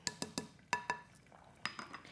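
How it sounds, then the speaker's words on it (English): A whisk clinks against a pan while mixing cocoa and sugar, giving sharp metallic taps in small clusters of two or three, close and quiet with short pauses between. "And then I just whisk it."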